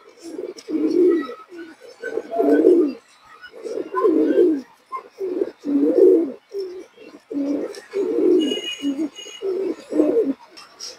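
Several pigeons coo in soft, repeated low bursts that swell and fade in a steady rhythm, close by and alone, from a fancy-breed pigeon pair being shown for sale.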